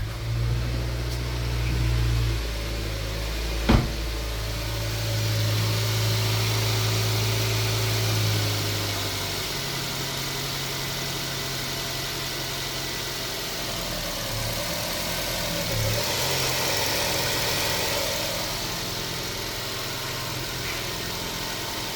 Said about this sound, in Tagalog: Namamatay yung makina.